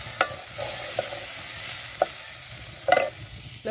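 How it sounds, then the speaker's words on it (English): Onion sizzles steadily in a hot pan, with a few sharp clinks as it is stirred. "Now the onion, I'm frying the onion first."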